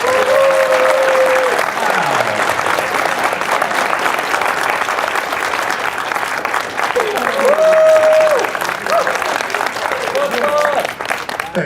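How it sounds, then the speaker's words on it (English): An audience applauding after a web demo presentation, dense, sustained clapping from a room of people that continues throughout, with some faint voices and a few brief tonal sounds in the background. "let's give these guys another round of applause"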